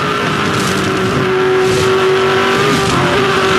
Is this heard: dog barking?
no